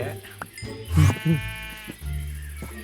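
Sheep bleats from the Minecraft video game, a few short wavering calls at moderate level over background game sounds, with a voice speaking briefly in the mix.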